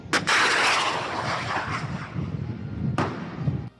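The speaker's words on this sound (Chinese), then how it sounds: "雷霆两千实弹射击火箭烟幕遮蔽天空" Thunderbolt-2000 multiple rocket launcher firing live rockets during a military exercise, a loud roaring launch blast that rumbles on, then a second sharp launch near the end, heard from a distance without talk.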